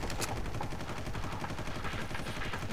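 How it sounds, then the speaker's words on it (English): Sustained automatic gunfire in the game Far Cry, a steady rattling stream of shots from a constantly firing enemy, moderately distant and alone without talk. "He's just constantly firing."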